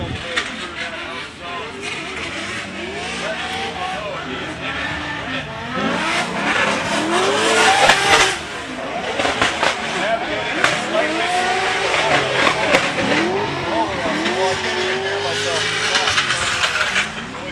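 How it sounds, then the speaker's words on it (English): A drift car powered by a Toyota 2JZ engine runs at full lock around Mondello Park in a drift competition, its loud engine rising and falling through repeated revs while tyres squeal and skid, with a commentator talking throughout. "That is a loud engine, that 2JZ."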